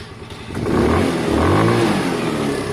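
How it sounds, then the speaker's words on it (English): A Sinnis Harrier 125 motorbike engine is revved hard at full throttle after an exhaust clean and paint, its close, loud mid-pitched roar climbing and holding steady for a couple of seconds after a quieter idle. "Full throttle, half throttle, it's great, but full throttle, listen, lovely."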